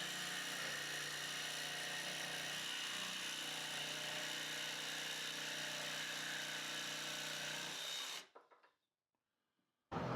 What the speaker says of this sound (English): I'm just going to cut that excess away near enough to the line